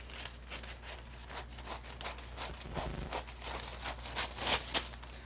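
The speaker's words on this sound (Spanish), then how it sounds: "cortar un pedazo de papel de estraza o de papel china" Scissors cutting a piece of kraft paper or tissue paper, a series of close, crisp snipping and rustling strokes in an irregular rhythm, quiet and heard alone.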